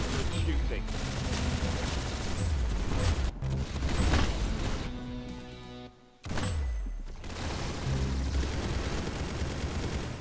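Rapid gunfire from the Roblox shooter game Arsenal crackles in dense bursts nearly throughout, with a brief lull near the middle before the shooting resumes loud and close, mixed with game effects and faint voices.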